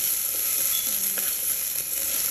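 Olive oil sizzling in a pan while frying for chicken fried rice, a steady, close hiss with faint crackles throughout.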